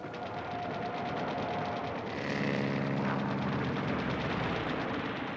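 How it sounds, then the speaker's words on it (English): Japanese Zero fighters strafe targets with machine guns during the Pearl Harbor attack, a loud continuous roar of aircraft engines with rapid gunfire chatter swelling midway through. "The Zeros strafed targets of opportunity."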